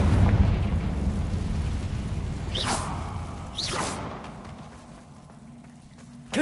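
Confringo blasting spell in Hogwarts Legacy, a rumbling low fireball roar with two sharp whooshing streaks cutting through, fading toward the end before a final snap.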